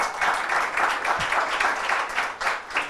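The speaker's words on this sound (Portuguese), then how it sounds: "Palmas para o Kalash aí, por favor." Audience applause at a longevity discussion event, a moderate wash of many hands clapping with slightly pulsing rhythm, steady throughout.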